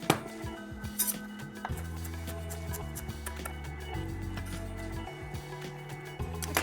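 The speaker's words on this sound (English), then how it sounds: "We just need a few sprigs of coriander that I'll finely chop too." A knife finely chops coriander sprigs on a board, a quick run of close, crisp taps and clinks that comes in uneven bursts, with no one talking.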